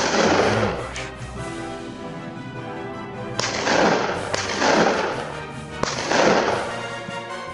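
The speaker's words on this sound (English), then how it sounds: "A gunshot echoed through the valley, but the boar kept running." Gunfire aimed at a fleeing feral boar in open Texas farm country. Several sharp, loud reports ring out a second or more apart, each trailing a booming echo across the valley.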